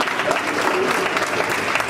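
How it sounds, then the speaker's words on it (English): A wedding reception crowd gives the family a round of applause, a dense and steady burst of clapping that stays loud for the whole moment. "let's have a round of applause for the family putting this together today"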